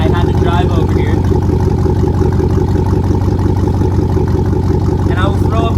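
Pickup truck engine idling steadily at close range, a constant low rumble with short bursts of talk over it.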